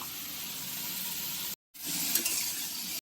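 Pumpkin and potato vegetarian curry frying in a wok with a dry red chilli and nigella seed tempering gives a steady, close broadband sizzle, briefly cut off midway before resuming loudly.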